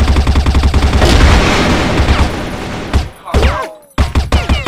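Rapid automatic fire from an M4A1-S Transformers rifle in Crossfire, in a Greece free-for-all match, rattles loud and close in dense bursts, then pauses and resumes in short volleys.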